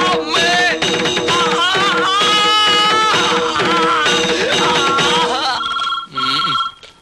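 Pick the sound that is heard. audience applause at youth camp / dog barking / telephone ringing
telephone ringing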